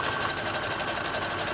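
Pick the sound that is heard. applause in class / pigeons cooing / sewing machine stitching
sewing machine stitching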